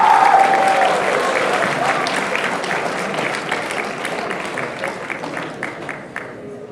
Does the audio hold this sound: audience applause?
yes